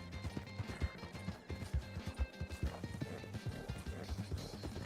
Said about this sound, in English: I try to like drown out the clip cloppy of the horse.